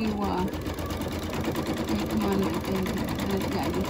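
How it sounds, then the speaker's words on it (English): An embroidery machine stitching down a piece of fabric for a Halloween quilt block hums steadily with a fast, even mechanical whir throughout, while someone talks over it. "this is going to stitch to hold that piece of fabric down"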